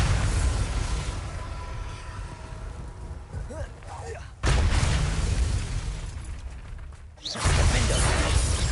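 Bombarda spell explosions in Hogwarts Legacy, two sharp blasts that cut in abruptly with a burst of noise, each followed by a rumbling roar, loud and close, with a voice talking over them.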